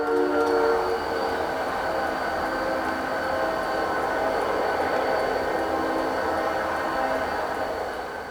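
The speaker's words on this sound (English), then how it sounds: "A long blast of 561's horn sent the moose running for safety." CN freight train 561 sounds a long, unbroken horn blast, a loud sustained multi-tone chord that holds for several seconds near the listener and fades slightly at the end.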